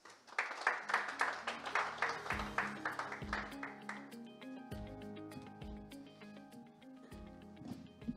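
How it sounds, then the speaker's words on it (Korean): Audience applause at a Korean policy society winter academic conference, a brief scatter of claps fading within a few seconds as background music plays on, quiet and somewhat distant. "큰 박수 부탁드립니다"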